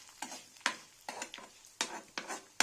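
Cumin seeds dry-roasting in a pan are stirred in quick scraping strokes, about seven sharp rasping bursts at an uneven rhythm, close and moderately loud, with quiet gaps between.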